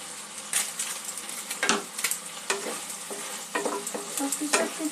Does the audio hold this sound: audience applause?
no